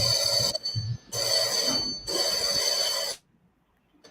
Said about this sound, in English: Nathaniel Varney Massaquoi, please test your buzzer.